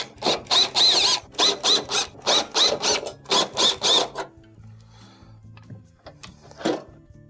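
Screws being removed from a Samsung stove top panel, a close series of rapid ratcheting bursts from a driver, followed by softer clicks and metallic handling sounds.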